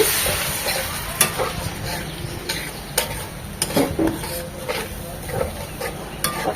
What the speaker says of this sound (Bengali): মশলাগুলো খুব ভালোভাবে কষিয়ে নেবো